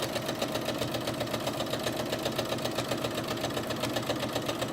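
A sewing machine stitching around a fabric drawstring backpack, running at a steady fast rhythm with a continuous mechanical whirr and regular needle pulses, fairly close and alone.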